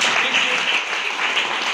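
Audience at a farmers' meeting claps steadily, a brief dense patter of applause with no pauses.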